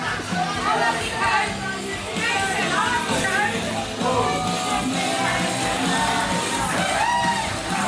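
A small indoor crowd at an independent wrestling show in the village of Ilmington roars and yells during a tag team match, steady and loud, with lively chatter and shouts throughout.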